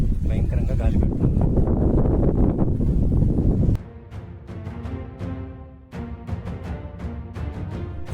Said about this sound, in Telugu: భయంకరంగా గాలి పెడుతుంది